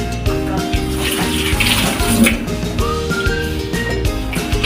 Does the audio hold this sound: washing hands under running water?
yes